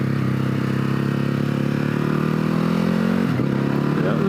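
A 2020 Ducati HyperMotard 950 SP engine drones steadily while the bike is ridden lazily in fourth gear, a loud, constant close-up mechanical hum with a slight pitch shift near the end.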